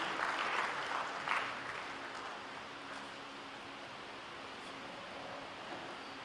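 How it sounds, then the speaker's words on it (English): Strong applause from an audience at an inaugural lecture honouring a new full professor, loudest at the start and then settling into a steady, wash-like patter as it slowly thins. "let's give him a round of applause even as we take our seats"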